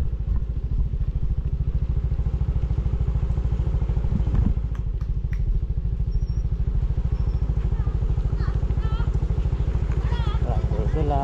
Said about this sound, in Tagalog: may scooter dito